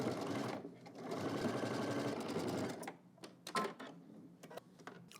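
A domestic sewing machine runs steadily for nearly three seconds, stitching the crotch seam of a garment, then stops; a few short clicks and handling knocks follow close by.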